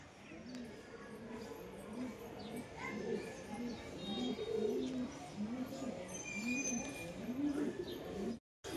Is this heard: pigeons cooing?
yes